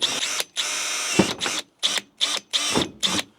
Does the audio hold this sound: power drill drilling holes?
yes